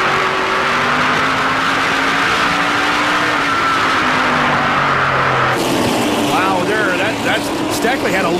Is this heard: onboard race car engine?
yes